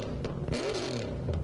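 A car engine revs in Gran Turismo 7, a steady mid-level roar that swells and eases over about a second and a half, with a brief whirring scrape layered on top.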